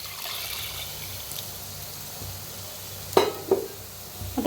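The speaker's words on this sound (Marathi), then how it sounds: "इकडे साईडला गरम पाणी करून घेतलं होतं मी गरम पाणी ओतूया" Faint stirring and a soft background sizzle of onions frying for a chicken curry, then a sudden splash and hiss as hot water is poured into the pot in short bursts.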